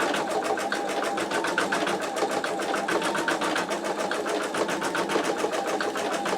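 An embroidery machine with an 8x8 inch magnetic hoop stitches a simple quilt block, its needle chattering in a fast, steady rhythm that stays loud and close throughout with no talking.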